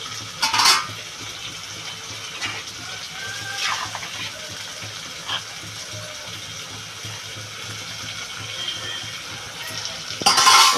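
Pieces of hilsa fish dropped into a simmering Bengali curry with green banana and potatoes, giving short sizzling splashes at the start and end over a low steady bubbling and stirring.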